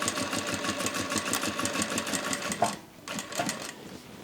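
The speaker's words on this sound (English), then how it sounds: "let's go ahead and sew around" A Vevor industrial sewing machine stitches around a zippy clutch bag with a fast, steady mechanical chatter that briefly pauses and then resumes, close and alone with no talking.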